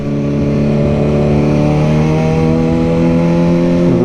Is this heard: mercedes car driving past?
yes